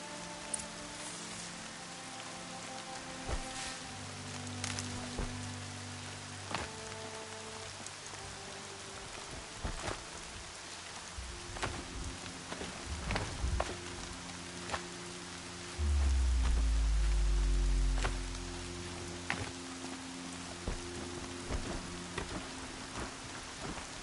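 Rain falls in the video game Horizon Zero Dawn, a continuous patter on surfaces with scattered drips and occasional dull low rumbles, along with brief tonal game sounds and a heavy low boom near the end.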